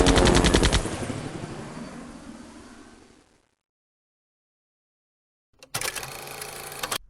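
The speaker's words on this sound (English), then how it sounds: "This is the AK-47, the preferred weapon of your enemy, and it makes a distinct sound when fired upon you" An AK-47 rifle fires a fast, loud automatic burst at close range, then the echo fades into silence, and after a pause a second burst of rapid shots rings out.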